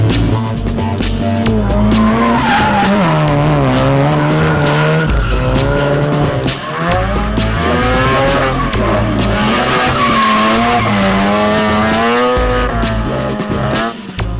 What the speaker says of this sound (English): This is the first drift car rotary power's built.